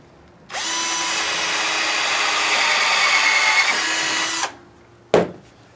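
A power drill boring a hole in wood, a single sustained whine of about four seconds that rises slightly as it bites, then stops, followed by a brief knock.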